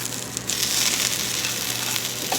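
Potato skins fry in a pan on high heat, producing a loud, continuous hissing sizzle that stays steady from start to finish, close up, with no talking.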